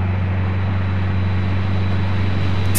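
A jet aircraft roars overhead as a loud, steady, continuous engine drone with a deep hum, heard alone without voices.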